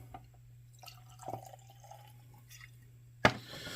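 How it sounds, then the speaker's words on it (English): Speyburn Companion Cask Scotch whisky poured into a glass: faint, quiet liquid trickles and drips, with a sharper splash near the end. "Let's go and get a pour on."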